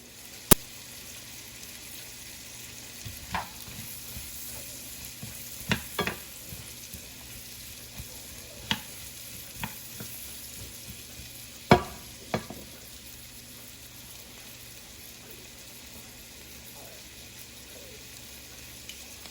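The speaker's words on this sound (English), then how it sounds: "We're going to let these caramelize down" Onions slowly caramelize in a pan on the stove for bacon jam, giving a soft, low sizzle with a few scattered sharp clicks and spoon taps, quiet and without talk.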